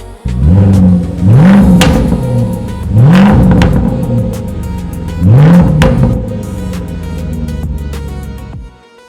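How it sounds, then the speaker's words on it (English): A Land Rover Defender revs with its exhaust valves open, producing loud, close, aggressive gargling blips: three or four rising-and-falling revs in a row, each swelling and dropping back to idle, with no talk. "with them open, it'll give the vehicle that aggressive, gnarly, gargling sound"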